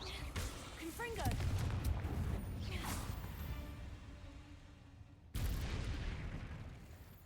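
A Confringo blasting spell explosion in the Hogwarts Legacy video game booms amid dense crackling combat effects, then cuts to a fresh loud burst partway through, with voices mixed in.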